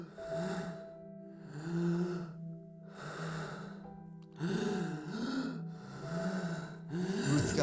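Labored, wheezing gasps during a severe asthma attack come in long drawn cycles, raspy inhalations and exhalations with whistling tones, close and alone.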